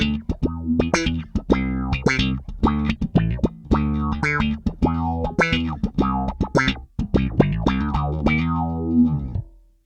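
Bass guitar through a multi-effects pedal on a slap sound preset, percussive popped and thumbed notes in a funky rhythmic run with bright envelope-like attacks, ending on a sliding note, no talking.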